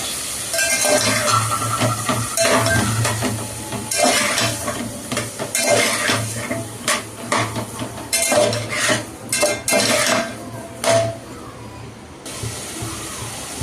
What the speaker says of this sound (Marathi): आणि आता शेवगा आणि बटाटा ह्याच्यामध्ये मी चांगलं फ्राय करून घेते।